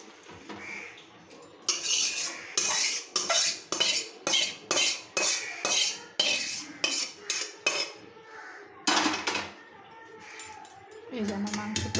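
Cutlery and pots clatter as cooked meat is lifted from a kadai off the gas flame, a rapid run of sharp metallic scrapes and clinks close by, with faint speech around it.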